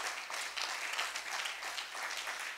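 A church congregation bursts into sustained applause, dense rapid clapping from many hands filling the room at a steady, moderately loud level without letting up.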